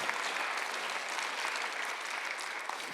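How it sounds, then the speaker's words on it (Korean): A church congregation at a Sunday service applauds together, a soft but dense, even patter of many hands heard from a distance and sustained without voices. "박수를 하나 드리세요"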